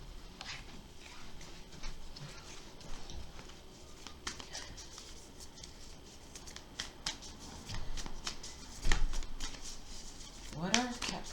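A tarot card deck is shuffled in a quiet space, producing a run of soft riffling and snapping card noises with a few sharper flicks near the end, fairly close and moderate in level.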